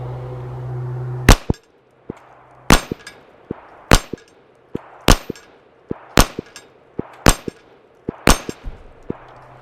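Seven sharp, loud shots from a small Taurus Spectrum .380 pistol, each followed by a ringing metallic clang of steel plates being hit, spaced roughly a second apart with a steady droning hum before the first shot.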